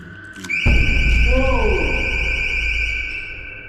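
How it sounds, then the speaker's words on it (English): A motion detector alarm sounds inside the old Adelaide Jail: a loud, steady electronic tone that starts suddenly and holds on, with a voice speaking over it. "An alarm right behind me, and that really just took the wind up me."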